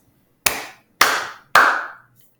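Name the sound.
class giving three claps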